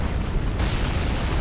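A loud, dense rumbling blast of bombs exploding in the video game Dark Souls 3, one continuous roaring burst with no separate hits, heard up close with no talking.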